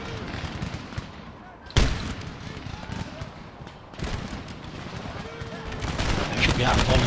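Musket volleys crackle in an Empire Total War battle, with ragged bursts of gunfire and sharp reports over a noisy battlefield din. A loud volley breaks out near the start, and voices and crowd noise mix through the whole scene.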